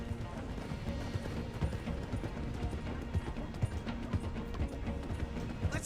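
A horse gallops in the video game Red Dead Redemption 2, its hoofbeats thudding in a fast, steady rhythm under a rumbling background with faint voices.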